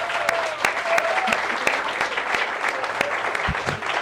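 An audience in a community-built auditorium in Portales claps loudly and steadily for the full stretch, with dense, even applause and no breaks.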